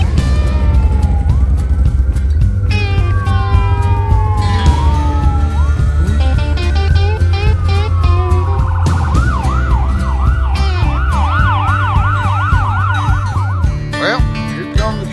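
Emergency trucks arriving with sirens blaring outdoors, several overlapping wails and fast yelping tones swelling loud and close, with engine rumble underneath.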